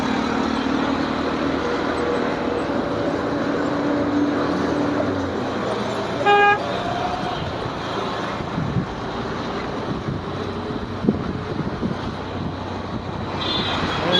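Heavy road traffic rumbles around a vehicle on a turning road near Ghansoli and Kalwa, a loud steady engine drone with one brief horn honk midway and a few faint beeps later.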